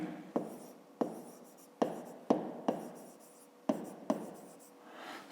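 Pen or pencil writing on paper while solving a fifth-grade maths exercise: scratchy strokes broken by several sharp taps as the tip meets the page, close and fairly quiet, with no one talking.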